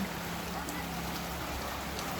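Steady rain pours down during Typhoon Enteng in the Philippines, a dense continuous hiss of falling water on surfaces, close and unbroken throughout, with no voices.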